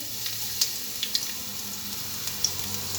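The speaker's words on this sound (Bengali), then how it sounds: "পেঁয়াজ কুচি দিয়ে এগুলো সুন্দর করে ভাজি করে নেব" Cumin seeds, a bay leaf and chopped garlic sizzle steadily in hot oil, a soft continuous frying hiss with a few faint pops and clicks.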